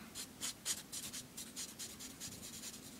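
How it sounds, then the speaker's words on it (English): A permanent marker scrubs back and forth across a paper strip laid over paper, a series of soft rhythmic scratchy strokes, close and quiet. "If you're using a permanent marker, lay it over paper and then just color."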